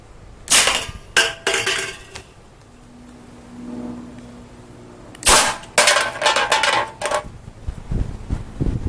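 A homemade high-power Nerf blaster rated around 250 FPS fires in a few sharp, loud bursts, with a short cluster early on and another group of cracks later, separated by quieter mechanical handling noise.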